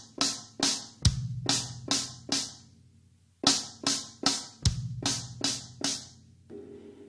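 Drum kit groove in seven played with hands and feet, a bass drum standing in for a left-hand note, two repeating phrases of sharp struck hits, the low kick thumps marking each cycle, close and alone.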